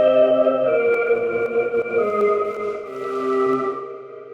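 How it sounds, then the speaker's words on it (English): Sustained synthesizer pad chords from the DropPad 3 plugin with long, spacious cosmic reverb, smooth and steady, tones shifting gently and fading into a wash. "so you can hear the cosmic reverb still running in the background there."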